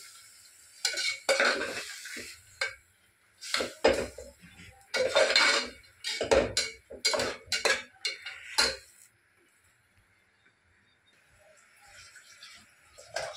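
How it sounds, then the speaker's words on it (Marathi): A spoon clatters and scrapes around a pot of spiced sprouts curry (usal) for misal pav in a series of loud, irregular stirring bursts, then the sound drops to near quiet for the final few seconds. "आता ते मिक्स केले जाईल."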